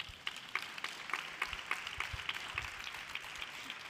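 A conference audience at a sustainability summit gives a few faint, scattered claps. Soft, sparse hand strikes sound from a distance, with no talking over them.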